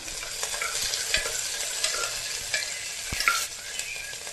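Green chillies and garlic sizzle and fry in a pan while a utensil stirs and scrapes, close and steady, with occasional sharper knocks and spatters.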